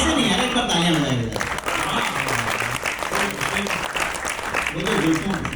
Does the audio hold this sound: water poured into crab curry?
no